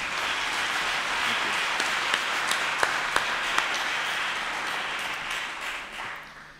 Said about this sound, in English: May we give them a round of applause, please, our writers.